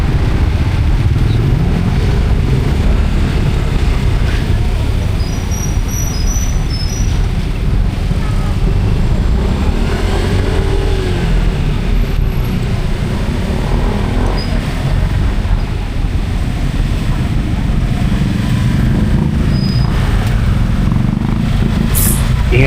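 A motorcycle rides through city traffic on the way to San Nicolas public market in Angeles City, Pampanga, with a constant low engine drone, passing vehicles and wind rumble, and a few faint high beeps.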